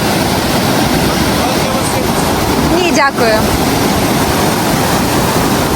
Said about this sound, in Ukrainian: Вашій увазі водоспад пробіг, дивіться.